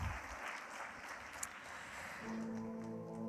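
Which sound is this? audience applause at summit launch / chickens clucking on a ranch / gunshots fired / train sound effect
audience applause at summit launch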